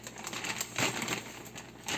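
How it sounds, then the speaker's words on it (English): Kale being dropped into a plastic bag gives a close, steady run of crinkling and rustling plastic with small crackles, louder briefly midway. "I'm going to put them in this plastic bag."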